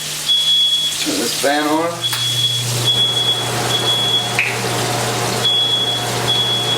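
A smoke alarm sounds in repeated high-pitched beeps over sizzling and a steady fan hum, while a person speaks briefly nearby.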